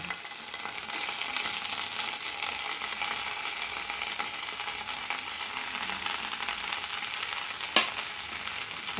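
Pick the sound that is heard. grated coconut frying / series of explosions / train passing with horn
grated coconut frying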